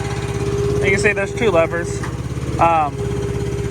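A gooseneck roll-off trailer's cold motor idles low and steady throughout, a constant hum beneath someone talking close by.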